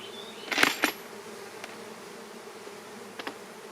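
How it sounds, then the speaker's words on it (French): Honeybees drone at an opened hive on a stormy day, a steady low buzz running throughout with a few brief louder bursts near the start and toward the end. "les abeilles sont assez calmes, sauf à la fin un peu"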